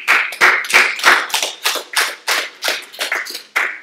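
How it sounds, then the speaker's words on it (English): A congregation at a church conference sermon claps in unison, with loud, evenly spaced bursts of hand claps, about three per second, sounding close and clear with no talk over them. "Give him a hand clap."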